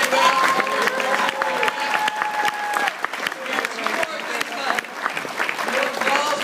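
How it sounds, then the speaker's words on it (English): Audience applause at a Kiwanis roast, sustained clapping mixed with cheering and whistles, with voices calling out over the crowd and the level rising and falling slightly. "One more round of applause."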